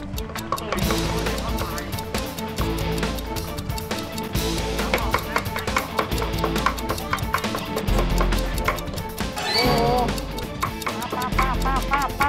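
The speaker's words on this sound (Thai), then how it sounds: "ปกติคุณแม่เนี่ยเป็นคนที่หั่นเร็วมาก" Rapid knife chopping through boiled pig head on a board at a busy fresh-market stall in Bangkok, a dense run of sharp blows over steady market bustle and chatter, with voices talking throughout.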